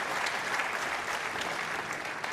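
Crowd applause ripples through a snooker arena in Manchester during a Shaun Murphy versus Mark Allen match, steady and fairly soft clapping heard alone at a distance.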